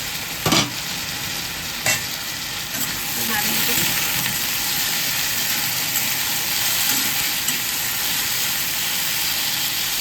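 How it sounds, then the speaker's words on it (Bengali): Potatoes fry in a pan for a white-style curry, giving a loud, even sizzle throughout, with a couple of sharp clanks from the utensil near the start. "আলুটা একটু ভাজা ভাজা হবে।"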